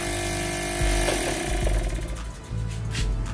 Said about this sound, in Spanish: Y ya arrancamos otro motor.